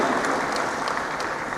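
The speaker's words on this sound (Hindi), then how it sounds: "इनके नाम पे ताली बजाइए भाई" Audience applause in a public gathering, a steady wash of clapping heard at moderate loudness for a brief moment.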